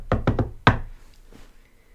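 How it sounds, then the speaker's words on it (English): A door being knocked on in an animated cartoon: three quick raps followed by a slightly heavier fourth knock, crisp and close, then quiet. "So, if it's anyone else, then she'll know because there'll be a knock instead."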